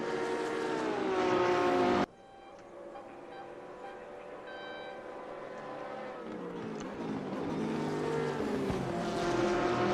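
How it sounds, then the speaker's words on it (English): Race cars, including a Porsche, climbing the hill at Mount Panorama, with engines whining and shifting pitch as they pass in close succession. An abrupt cut early on drops to a quieter engine drone that builds back up. "Tight racing from Lupu and Paz as they come up the hill towards the first few corners"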